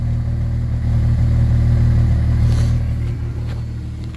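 A 1996 Jeep XJ donor vehicle idles with its exhaust running, a loud, steady low engine drone with a constant rumble that holds near and even throughout, with no speech.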